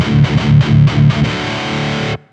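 Heavily distorted electric guitar through a Boss Waza Tube Amp Expander Core loadbox set to its 4x12 stack cabinet mode, playing a short chugging riff of palm-muted bursts and then one held chord that cuts off abruptly.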